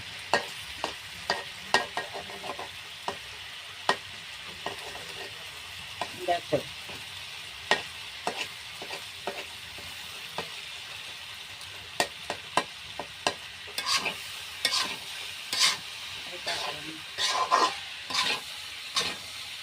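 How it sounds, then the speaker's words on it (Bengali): Egg frying in a pan is broken into pieces with a spatula, giving repeated sharp scraping clicks over a steady low sizzle that runs throughout, with no talking. "আমার ডিমটা ভাজা হয়ে গেছে এইবার আমি খুঁটির সাহায্যে ভাঙা ভাঙা করে নিচ্ছি"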